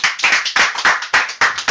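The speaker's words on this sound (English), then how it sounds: "Let somebody clap for Jesus as you're sitting down." Church congregation clapping together for Jesus, a loud, fairly rhythmic burst of many hands close by with a few quick claps between the main beats, and no speech over it.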